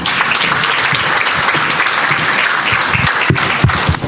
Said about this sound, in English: Big round of applause for Dr. Natiq.